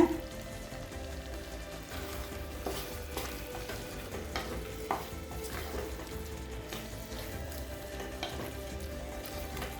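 Fried chicken and spring onion greens stirred into a pan for chilli chicken, giving a low, steady sizzle with scattered stirring clicks and scrapes, close and fairly quiet.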